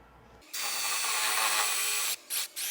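A 5/16 nut driver on a power drill drives self-tapping screws into a slide topper rail, giving a loud, steady whir for about two seconds followed by two short bursts as the screw is snugged down.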